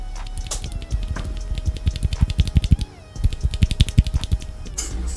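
Clicky mechanical keyboard switches being typed on in quick bursts, with a short pause midway, close and fairly loud over a faint background hum.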